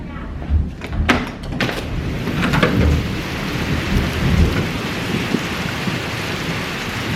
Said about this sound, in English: oh, there's a lightning. Ah, there's thunder.